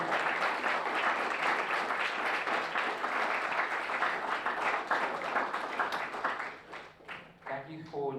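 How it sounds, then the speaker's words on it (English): A university strategic thinking event audience applauds the winning group with steady, dense clapping that holds for several seconds before thinning out near the end, where a voice starts speaking. "You can give them one round of applause, please."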